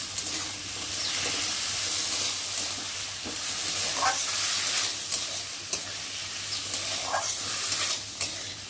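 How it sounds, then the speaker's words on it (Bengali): Rice for basanti pulao fries in a pan with cashews and raisins, giving a steady, close sizzle and hiss while a spoon scrapes and stirs now and then. There is a low hum underneath and no talking. "একটু ভালো করে ভেজে নেব।"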